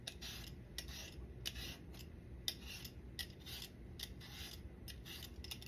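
Potatoes are peeled for fries with short, quiet scraping strokes at an uneven steady pace, close up and soft over light background noise, with no talking.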